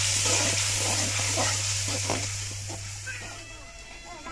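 Salted masala frying and being stirred in a pan, a soft continuous sizzle with scraping strokes under a low hum, fading slightly toward the end while someone talks nearby.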